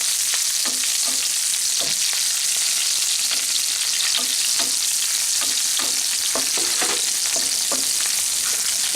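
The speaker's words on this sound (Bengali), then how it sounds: "আর রসুন কোয়া দিয়ে দিচ্ছি। এখানে 1 টিস্পুন রসুন কোয়া আমি কুচি করে নিয়েছি, দিয়ে জাস্ট ফোড়নটা একটু নাড়াচাড়া করে নিতে হবে।" A tempering of chopped garlic and green chillies crackles in hot oil for a giant taro (maan kochu) masala. A loud, constant frying hiss runs throughout, with scattered clicks and scrapes from stirring close by.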